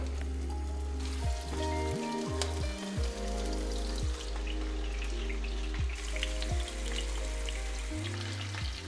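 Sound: lulya kebab sizzling and crackling in a pan over strong gas

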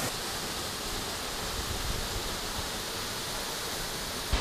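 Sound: small waterfall in Tilcara, Argentina

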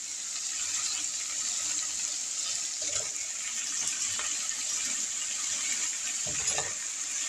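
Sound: sliced sausage frying in a pan

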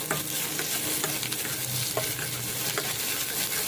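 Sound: onions deep frying in oil

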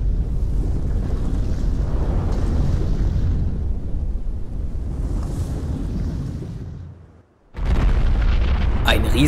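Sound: giant rope slamming onto the ground, audio drama effect

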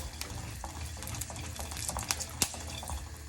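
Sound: stirring sambar with a spoon in a pot

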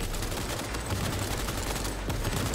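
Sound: shotgun gunfire in the video game Cyberpunk 2077

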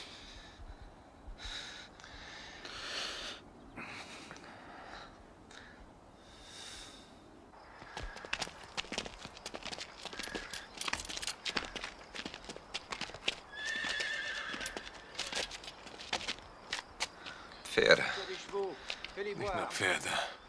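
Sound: horses neighing and hooves clip-clopping

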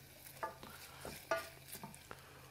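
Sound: onions frying in melted butter in a pan

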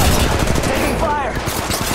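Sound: gunfire in Apex Legends video game

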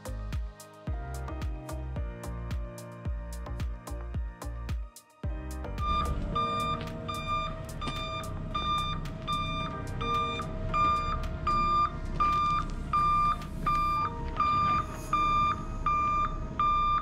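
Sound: truck reversing beeps while backing up

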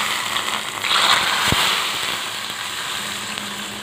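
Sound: hot tempering with fried cashews and almonds sizzling in dish

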